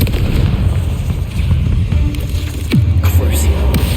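Confringo fire spell blast in Hogwarts Legacy: loud booming, crackling explosive impacts with a descending whoosh and a low rumbling tail, close and heavy.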